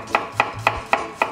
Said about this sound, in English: we're gonna rough chop a clove of garlic